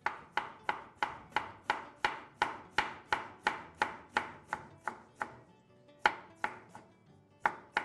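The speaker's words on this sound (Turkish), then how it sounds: "Bunu da şöyle minik minik doğramaya başladık." An onion is chopped finely with a knife on a board, a steady run of crisp, evenly spaced chops close up, with one brief pause before the cutting resumes; no talking.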